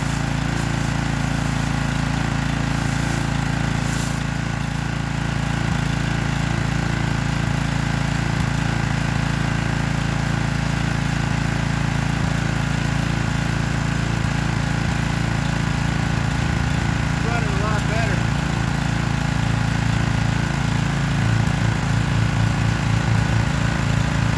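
A free Troy-Bilt pressure washer's engine, its spark plug only finger tight, runs steadily and close by, a continuous droning hum with no talk.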